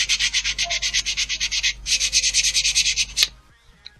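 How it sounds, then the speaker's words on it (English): Glass paper is rubbed back and forth on a plastic SNES console shell in fast, even strokes, a close scratchy rasp that pauses briefly and then resumes before ending with a tap. "I'd recommend sanding bits a little bit. Only like a really, like glass paper"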